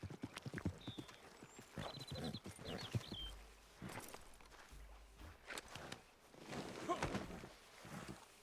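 A horse walks in the Red Dead Redemption 2 video game, its hooves clip-clopping in a faint, uneven rhythm of soft knocks, with quiet background noise and brief sounds in between.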